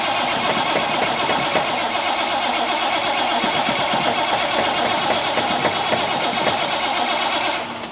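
The engine of a Triumph TR6 barn find cranks, catches and keeps running with a loud, steady, slightly uneven idle, close up and alone.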